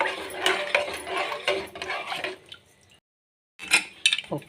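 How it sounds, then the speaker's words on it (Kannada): A spoon scrapes and clinks as it stirs a watery rice bath mixture with salt in a pressure cooker pot, in bursts of close strokes, then a brief silence, then a few more clinks. "ಎಲ್ಲವನ್ನು ಒಮ್ಮೆ ಮಿಕ್ಸ್ ಮಾಡೋಣ"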